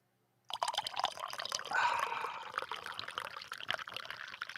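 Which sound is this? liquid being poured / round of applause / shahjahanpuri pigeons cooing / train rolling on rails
liquid being poured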